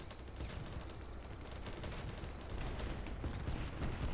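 Dense, continuous gunfire from a video game, steady volley after volley with no gaps, moderately loud and unbroken across the whole stretch.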